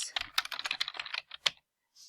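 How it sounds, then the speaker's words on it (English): Rapid keystrokes on a computer keyboard, typing out a playlist name in a quick, uneven burst of close clicks. The typing stops briefly, then one last faint tap follows. "I'll type in Spoons Math 116 graphing rationals"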